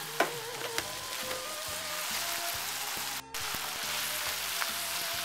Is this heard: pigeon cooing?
no